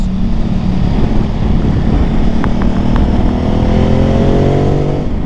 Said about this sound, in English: It chugs a bit in the lower revs, as you heard it then